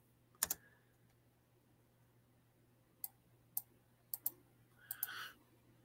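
Computer mouse clicking in a quiet room: a handful of sharp, close clicks, one near the start and a cluster of four or five toward the end, over a low steady hum.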